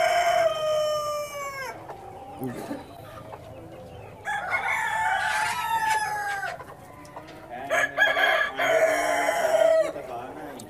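Several large Plymouth Rock roosters crow in turn, long drawn-out calls close by, with hens clucking softly in the background between crows.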